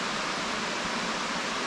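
Awamata Falls in Japan, seen from a riverside walking path, gives a steady broadband roar of falling water that stays even and unbroken throughout.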